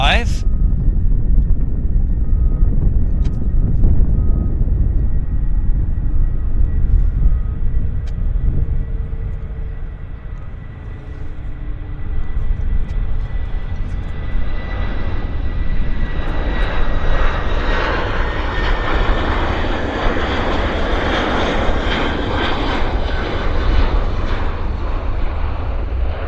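An airliner takes off and climbs out from Vancouver Airport, its engine roar loud and sustained, swelling as it climbs. A person talks over it.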